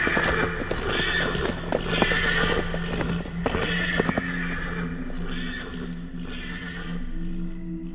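A horse engulfed in flames whinnies loudly while hooves clatter in quick succession on a dirt road, with a low engine-like hum running underneath toward the end.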